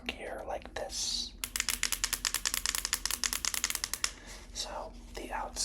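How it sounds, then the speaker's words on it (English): Up close, a device's power button is pressed again and again in a fast, even run of sharp, loud clicks lasting about two and a half seconds, framed by soft whispering and handling rustles. "And then the power button sounds even clickier like this."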